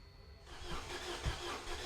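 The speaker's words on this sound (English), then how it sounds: "There it's cranking now, so that is indeed moving." Starter motor cranks a 2015 Ford Fiesta 1.5 TDCi diesel that won't fire, with a crankshaft sensor fault and a weak battery. Quiet, steady churning begins partway in, with one brief low thump, and no voices.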